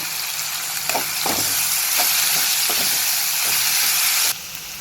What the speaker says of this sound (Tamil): நம்ம நல்லா ஃப்ரை பண்ணி எடுத்துக்கலாம் வெஜிடபிள் ஃப்ரை ஆகும்போது